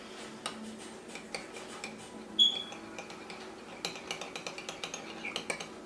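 A spoon stirs Pad See Ew sauce in a small bowl, giving light scattered clinks that turn into a quick, steady run of ticking taps against the dish, close and quiet with no talk.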